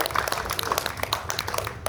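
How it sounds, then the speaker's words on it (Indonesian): A hall audience claps for a team after its presentation, with dense, continuous applause close by and many overlapping hand claps at a steady level throughout. "kita berikan tepuk tangan yang meriah untuk tim Dewan Mas Ati"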